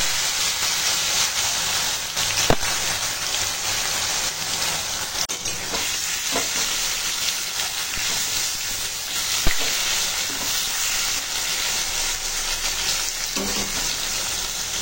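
Pieces of elephant foot yam fry in hot mustard oil in a kadai, a continuous sizzle with occasional sharp pops and stirring clatters, close and fairly loud, with no talking.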